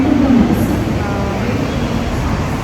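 Steady low rumble of a metro train, continuous throughout, with a faint rising whine near the start.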